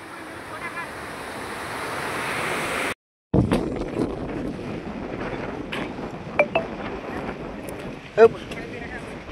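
Water released from a dam gate roars steadily in the open, mixed with wind buffeting the microphone, a brief dropout, and a few faint clicks and voices.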